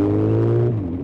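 A Honda CB1000R 1000 cc four-cylinder motorcycle engine hums steadily with a deep, even tone, held for about a second before easing slightly lower; close and fairly loud with no talk over it.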